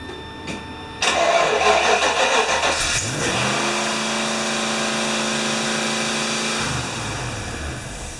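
A 5.0 V8 engine in a Mazda Miata cranks and catches with a loud roar, revs briefly, then settles into a steady idle before dropping lower near the end.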